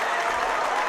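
A gym crowd at a high school varsity boys wrestling dual meet erupts in applause and cheering, a brief, dense, steady burst of clapping and voices.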